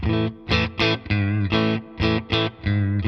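Distorted Fender American Ultra II Stratocaster with noiseless pickups in position 4 plays a choppy rhythmic pattern of short chords, with a hollow, mid-scooped tone and crisp, clean gaps between hits.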